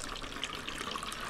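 Strained homemade tincture poured through a funnel and small sieve into an ordinary spray bottle, a steady, close, fairly quiet trickle of liquid running without pause.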